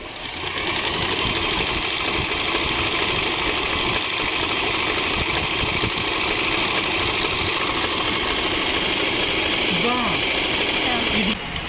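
Usha Janome Stitch Magic sewing machine stitching an interlock-style design, a loud steady mechanical whirring hum running continuously and ending abruptly, with no speech over it.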